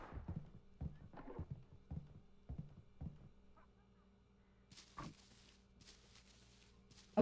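Footsteps of the neighbor character in the video game Hello Neighbor, a series of dull, evenly spaced thumps close by that fade out midway, followed by faint hissy noise and a sharp knock at the end.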